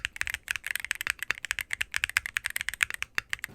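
Typing on GMK67 and Neo65 mechanical keyboards fitted with stock Womier Rose Whisper switches: a fast, close run of crisp, poppy keystrokes, each clack sharp and distinct, steady rhythm with no voice.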